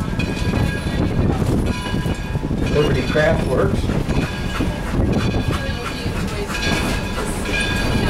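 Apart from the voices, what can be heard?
Greenfield Village train arriving at Firestone platform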